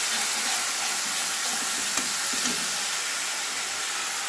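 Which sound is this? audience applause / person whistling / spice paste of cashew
spice paste of cashew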